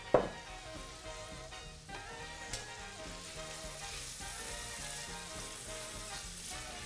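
Bacon cooks down in olive oil in a rondeau pan, giving a soft, even sizzle that holds steady throughout after a faint clink at the start, with no talking.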